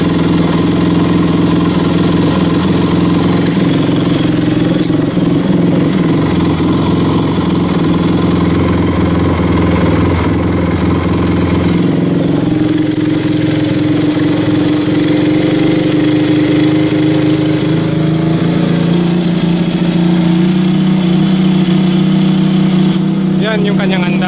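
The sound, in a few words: KTM RC 200 motorcycle engine idling at high RPM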